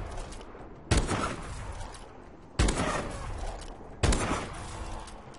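The MORS sniper rifle in Call of Duty Advanced Warfare fires three loud, booming shots, about one to two seconds apart, each followed by a rumbling decay.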